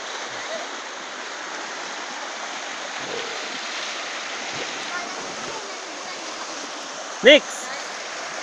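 Clear stream water in Kalinga rushes in a steady, broad hiss, close and unbroken, with a brief sharp voice or splash cutting through near the end.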